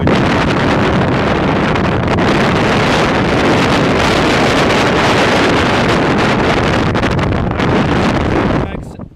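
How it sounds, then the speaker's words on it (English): Loud, roaring wind buffets the microphone nonstop, a dense rumbling blast that fades out abruptly at the very end. "Bloody hell, it's so windy."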